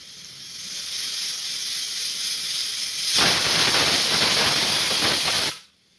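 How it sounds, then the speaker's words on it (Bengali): A pressure cooker on a gas stove sets up a steady broadband hiss, then a louder, rougher rush of escaping steam joins in and runs for a few seconds before cutting off abruptly. "এইবার আমি গ্যাসের চুলায় অন করে দিয়ে কুকারটা বসিয়ে দিছি"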